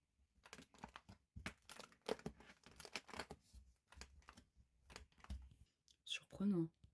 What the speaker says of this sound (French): Écoutez, ma porte, elle croustille.